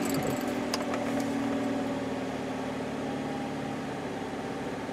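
A vehicle engine fires up and settles into a steady idle after its fault codes are cleared, a continuous low hum running close by for the whole stretch with no talk over it.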